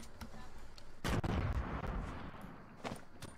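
A thrown grenade detonates in the video game Fortnite: one loud, booming blast about a second in that rolls off slowly, with faint gunfire pops before and after.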